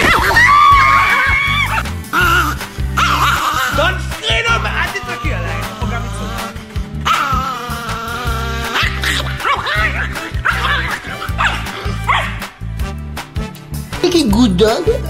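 Chihuahuas bark, yip and whine excitedly in a noisy, overlapping burst close by, with people's voices mixed in throughout.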